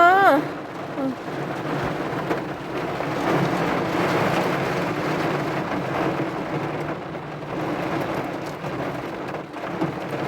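Heavy rain pours steadily onto a car roof in a dense, continuous drumming roar during a storm with strong wind, with a faint voice under it.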